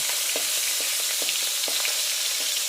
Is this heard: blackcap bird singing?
no